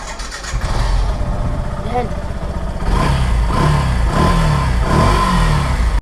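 A secondhand 2022 Yamaha FZS V3 motorcycle engine starts and revs up in repeated throttle blips over a steady idle, close and loud, with voices talking nearby.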